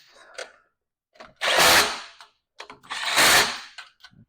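A power tool tightens lug nuts on a Venom 125cc mini jeep wheel in two loud, close bursts of rapid rattling hammering, each about half a second long, with quieter clicks and handling noises between them.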